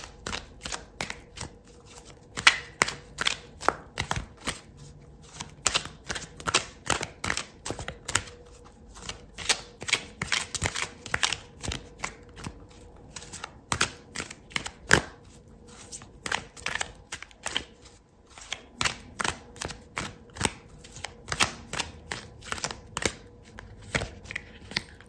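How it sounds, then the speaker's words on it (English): Tarot cards are shuffled and drawn at close range in fast, uneven runs of crisp riffling clicks, with brief pauses between bursts and no voice. "I'm going to pull out another card for you"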